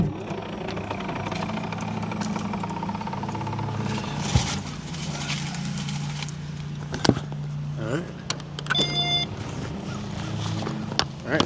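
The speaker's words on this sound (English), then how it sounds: "Parking the car." A car pulling in and parking at a CrossFit gym, the engine idling with a low steady hum, then shifting, clunks and rustling near the end, with a voice talking over parts of it.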